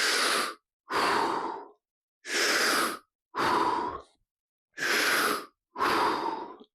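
Six deep breaths during a guided anxiety-release exercise done in a squat, each a close, airy inhale or exhale lasting under a second, separated by short silences in a slow, even rhythm.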